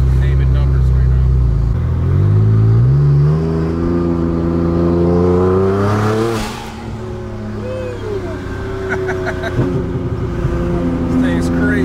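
An upgraded 1,200 horsepower Porsche 911 Turbo S engine revs and climbs through the gears, loud and close, then settles into a lower drone with the pitch shifting.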